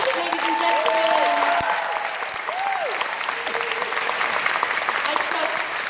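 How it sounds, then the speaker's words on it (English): A theatre audience applauding during a stage performance of The Mystery of Edwin Drood, loud continuous clapping throughout, with voices and sung tones over it. "I trust the moderation of your applause merely means you are conserving your energies for the final curtain."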